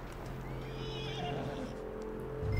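A horse in Red Dead Redemption 2 gives a clear whinny over soft hoof clip-clops and low ambient rumble, fairly close, with a thud near the end.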